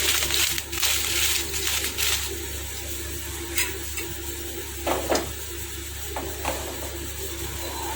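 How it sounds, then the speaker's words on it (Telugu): Dried red chillies frying in hot oil in a pan for sesame spice powder, a steady close sizzle with occasional sharper crackles and stirring scrapes, no talk. "ఆయిల్ హీట్ అయింది ఎండుమిర్చి వేస్తున్నాను"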